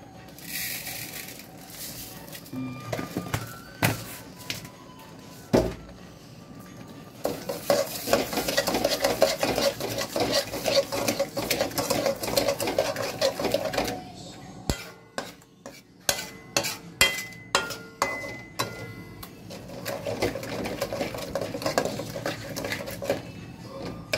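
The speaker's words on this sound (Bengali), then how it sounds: "খোয়া ক্ষীরটাকে এরকম করে মেরে নিতে হবে।" Khoya kheer being mashed and stirred in a pan with a utensil for Kancha Golla sandesh, with a close, steady scraping and clattering that pauses briefly partway through.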